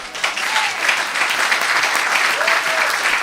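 Church congregation clapping steadily in praise during a sermon, a dense sustained round of applause filling the room for a few seconds, with faint voices calling out.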